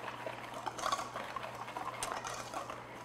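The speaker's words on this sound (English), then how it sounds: "I'm just using a wire whisk to mix that together" A wire whisk stirs sugar in a mixing bowl while making chocolate banana bread, giving soft, steady scraping and light metallic ticking against the bowl with a faint background hum.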